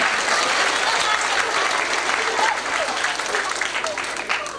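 A burst of loud applause from a group, steady clapping that slowly tapers off.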